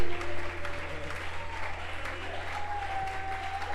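Congregation applause during a church service honoring a prophet, steady and fairly loud, with a low continuous hum and a sustained tone running underneath.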